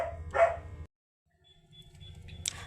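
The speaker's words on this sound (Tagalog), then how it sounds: "may bagong mukha kaya tumatahol" A dog barks in a short, loud burst of a few yaps, then quiet, followed by faint low rumbling and a brief high-pitched sound.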